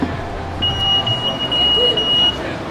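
An anti-theft security alarm at an H&M store exit after self-checkout sounds one steady, high electronic tone for under two seconds over murmuring shop background noise.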